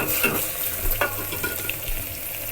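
Finely chopped onions drop into hot oil with asafoetida and carom seeds in a pan and start a close, steady sizzle with a few scraping stirs and no voices.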